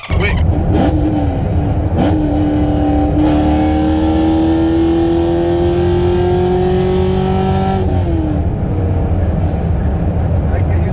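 A Camaro LT1 V8 with cam, headers and E85 fuel in a manual car revs hard through quick no-lift shifts, loud close engine roar from inside the cabin, rising pitch with sharp gear changes, with people talking over it.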